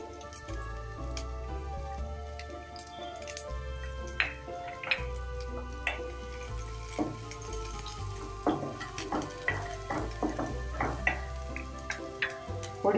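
Garlic crackles in hot oil while cabbage Manchurian is being made, with scattered close pops and sizzling ticks over a steady tonal background.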